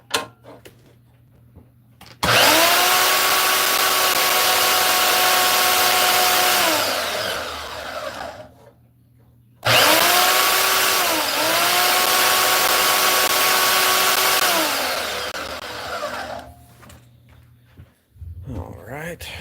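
A loud power tool cuts a workpiece down in two long bursts, each spinning up sharply, holding a steady whine and then winding down, separated by a brief quiet pause, close up in a workshop.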